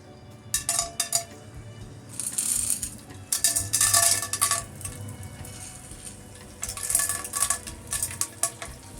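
Edible gum pieces frying in ghee in a frying pan for chane ke laddu, with bursts of bright sizzling and crackling, metal utensil scraping and stirring against the pan in intermittent clusters, close up.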